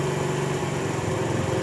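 A Honda CD70 motorcycle engine idles steadily at close range during carburetor adjustment, a loud, even, buzzing putter with no rise or fall in speed.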